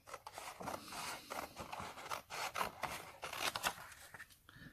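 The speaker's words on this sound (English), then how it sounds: "cut along the dotted line with a pair of scissors." Scissors snipping through paper in a run of short, close, rasping cuts with brief pauses, quiet and with no talking.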